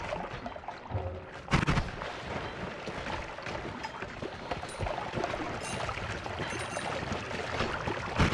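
Dense, crackling bursts of gunfire and explosive blasts in the video game Noita, loud and continuous with a sharp hit early on.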